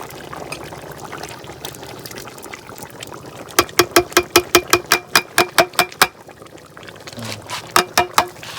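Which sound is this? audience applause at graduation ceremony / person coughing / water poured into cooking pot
water poured into cooking pot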